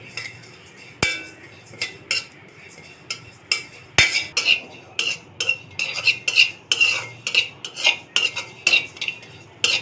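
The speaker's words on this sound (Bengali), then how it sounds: "চুলায় কড়াই বসিয়ে দিয়েছি, দিয়ে দিব জিরে। জিরেগুলি হালকা আছে ভেজে নিব।" Cumin seeds dry-roast in a wok on a stove while a spatula stirs them, making repeated rhythmic metallic scrapes and clinks at close range with a couple of sharper knocks.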